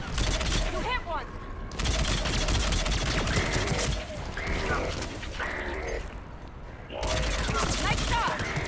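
Rapid bursts of gunfire in the video game Mass Effect 3 crackle loudly in sustained volleys, broken by short lulls, with a voice speaking over the battle.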